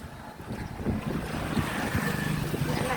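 A motorboat engine drones steadily as the boat crosses the water, a low rumbling hum mixed with wind buffeting the microphone and the wash of water, fairly close and continuous.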